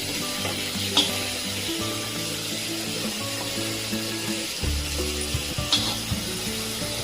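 Corn kernels sizzle on a low flame in a spicy ginger-garlic masala as a spoon stirs and scrapes the pan, with steady frying crackle and occasional knocks against the pan.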